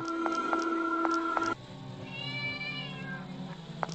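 A cat meows in the horror video game Mad Father, giving several short, clear meows in a steady rhythm over droning music. A stretched, wavering electronic tone follows, and then a single faint meow near the end.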